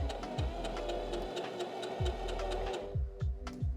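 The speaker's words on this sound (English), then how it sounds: "Because I'm doing a zigzag stitch." A sewing machine runs a zigzag stitch on stretchy fabric with a steady, fast mechanical whir and rhythmic ticking thuds. It sounds close and continuous, and the motor stops briefly partway through.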